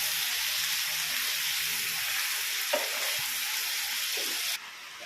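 Two medium onions sizzle in hot spiced oil, a steady close hiss with a brief stir-scrape near the middle and a slight drop in level just before the end.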